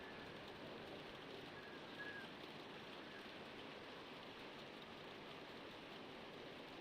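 Steady rain falls in The Walking Dead Definitive Edition Season 1 video game on PS5, a constant, even hiss of drops that runs unbroken throughout with no voices.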